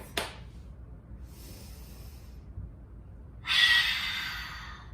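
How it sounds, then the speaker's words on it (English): A person demonstrates a lung breath: a short sharp intake, a longer airy inhale through the chest, then a loud breathy exhale that fades slowly, heard close against a steady low room rumble. "Here's a lung breath."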